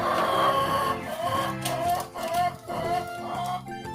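Breeder roosters and hens in a backyard pen ahead of deworming, clucking and crowing in a steady, fairly loud chorus that fills the whole stretch.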